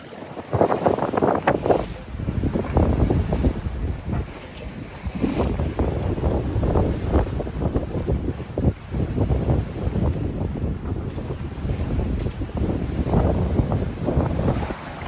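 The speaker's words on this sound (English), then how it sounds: "Probably can't hear me anyway because all the wind." Strong, steady wind roars across the microphone with rushing water and waves around a moving sailboat crossing the Sea of Cortez, loud and continuous throughout.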